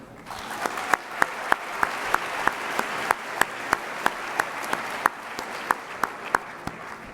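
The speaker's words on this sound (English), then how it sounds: "I just wanted to begin by giving all of our incoming students a round of applause for getting to this point" Applause for incoming students at a college orientation session, a sustained crowd clapping with sharp, regular claps standing out close by over a softer background of hands.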